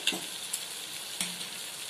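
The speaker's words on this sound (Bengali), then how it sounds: "কারণ এটা যেহেতু পনির সেই জন্য ঘেঁটে যাবে, তাই অল্প অল্প হাতে নেড়ে নিচ্ছি।" Paneer frying in a pan as it is gently stirred, giving a soft steady sizzle with a couple of light utensil scrapes, close and fairly quiet, with no talking.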